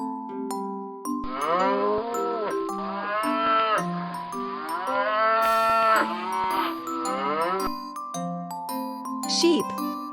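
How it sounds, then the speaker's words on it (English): A cow moos in several long, loud, drawn-out calls over a bright, bouncy children's music backing with chiming notes, in a farm-animal sound set for toddlers. "Cow."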